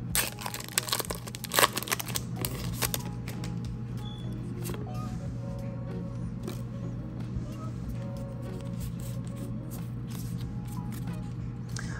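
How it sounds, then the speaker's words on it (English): Pokémon Lost Origin booster packs are torn open and handled, with close, dense crinkling and crunching of foil wrappers over a steady low hum, busiest in the first few seconds. "But let's get into opening these packs."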